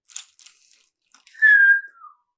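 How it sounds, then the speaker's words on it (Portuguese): A soft, slow whistle sliding gently downward, preceded by a few faint crunchy clicks; brief and isolated. "assobia lentamente"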